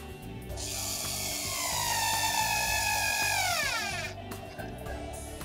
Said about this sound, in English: So I'm going to drill this in.